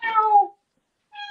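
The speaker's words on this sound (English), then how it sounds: "That is a real cat. I'm telling you, that's a real cat." A domestic cat meows twice, a long drawn-out call followed after a pause by a shorter one, close and clear with no talking over it.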